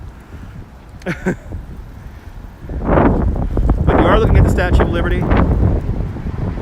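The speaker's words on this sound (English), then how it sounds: "Sorry about the wind noise. It's really windy." Strong wind buffets the microphone with heavy low rumbling at the Brooklyn Bridge, growing louder midway, while someone speaks over it.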